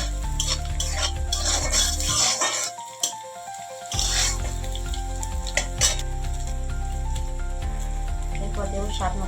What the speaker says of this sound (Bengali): ভালো করে একটু ভাজা ভাজা করে নেব।